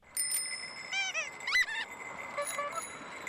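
Bells jingle and ring on a fluorescent yellow homemade bicycle taxi pulling a padded bench decked with flags and pinwheels along Richmond Road, giving several bright, quick rings in bursts over a steady street background.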